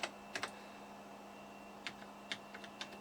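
Keys clack faintly and sparsely on a Siemens PG-730 programmer keyboard, a handful of scattered taps over a steady electronic hum.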